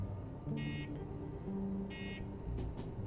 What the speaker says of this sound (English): There is a bell on this engine. It sounds really weird